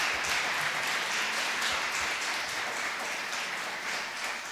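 A church congregation claps together, a dense, fairly loud wash of applause that carries on evenly throughout, with faint rhythmic pulses inside it and no speech.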